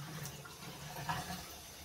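Hot water runs from a sink faucet as a faint, steady rushing hiss that holds at an even level throughout.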